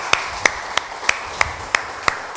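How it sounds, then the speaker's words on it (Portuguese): Sharp claps land in a steady, evenly spaced beat, about three per second, as a church congregation claps in unison during a worship service, with no voices over them. "dá uma salva de palmas ao Senhor"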